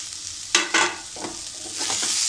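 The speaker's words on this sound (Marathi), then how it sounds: "थोडं आपण हिला परतून घेऊया." Sprouted moth beans (matki) being sautéed in a pan for misal give a sizzle with a few sharp stirring scrapes, then a rising steady hiss, with no talk.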